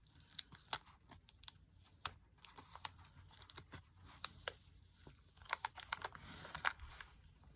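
Paper peeled away by hand while making a journal, a run of faint, close crackles and small tearing ticks in irregular bursts, with no talk.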